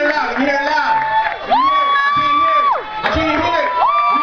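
Crowd at a live hip-hop reality show event cheering loudly, with sustained whoops and yelled hype calls rising and falling over a constant roar of voices throughout.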